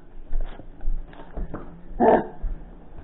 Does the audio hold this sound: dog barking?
yes